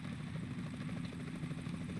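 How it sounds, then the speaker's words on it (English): Helicopter in Metal Gear Solid: The Twin Snakes, a faint steady rotor chop with a low throbbing beat and airy engine whine, distant and continuous. "Is that a chopper I just heard?"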